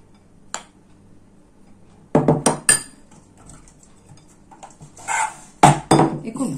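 Gluten-free flour is worked into a bowl with metal cutlery, producing bursts of clinking and scraping against the bowl, with a brief tap at first and then two clustered bouts of loud clattering.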